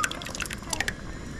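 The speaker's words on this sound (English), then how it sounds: "Then, let's chuck the sauce in." Thick pasta sauce glugs and drips from a bottle into a cooking pot in a series of quick close wet splats and plops.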